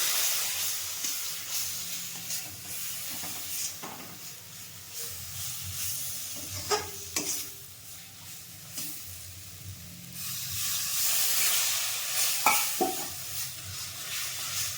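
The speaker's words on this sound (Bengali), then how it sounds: "মশলাটা দিয়েও আমি ভালো করে কষিয়ে নেব একটু জল দিয়ে দিচ্ছি মশলা যাতে না নিয়ে যায়" Spice paste hisses and sizzles in a pan after a splash of water, a steady steamy hiss with scraping stirring strokes and a few clinks, close with swells of louder sizzling.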